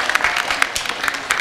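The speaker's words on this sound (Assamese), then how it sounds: "এটা জোৰেৰে হাত চাপৰি হ'ব" Applause from an audience at the Bokajan Kendriya Bohag festival in 2025, a quick run of sharp claps rising and falling for a moment at moderate distance, with no voices over it.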